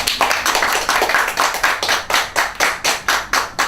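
A round of applause at a school graduation ceremony, with sharp rhythmic clapping close by and a few hands in a small group beating out a steady, fairly even pulse.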